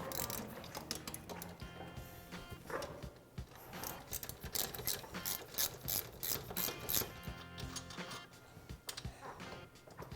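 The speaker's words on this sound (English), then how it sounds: "Now we can remove our mounting bolts and the caliper." Ratchet clicking and metallic tool work while caliper mounting bolts are removed from a Yamaha Blaster 200 ATV during a brake job, close and moderately loud with repeated bursts of clicks and clanks.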